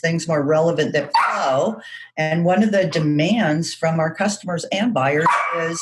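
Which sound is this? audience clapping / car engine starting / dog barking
dog barking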